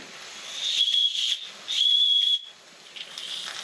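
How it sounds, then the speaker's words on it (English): Safety valves lift on a small Stirlingkit model beam engine under steam, giving two loud, sustained high-pitched whistling hisses of about half a second and a second, separated by a pause, with softer hissing trailing after. "So with the improved valve, we've got steam up again, and safety valves lifting,"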